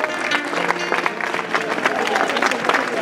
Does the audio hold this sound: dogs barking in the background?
no